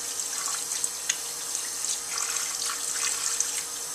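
Water runs steadily from a tap while whole red wheat dough is washed by hand to rinse out the bran and leave gluten, with a continuous splashing hiss and small drips and plops, close and fairly faint, no talking.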